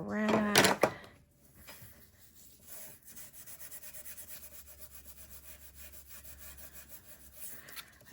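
A rag rubbed over paper in a junk journal, making a steady soft scrubbing and rustling sound, close and quiet, after a brief burst of speech at the start.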